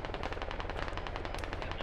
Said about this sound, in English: They're shooting at our Blackhawk.